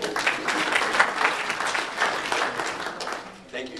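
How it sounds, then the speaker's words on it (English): Audience at a political campaign event claps in a moderate, sustained round of applause, fairly even with small swells, tapering slightly before a final burst. "people applaud for you even before you start"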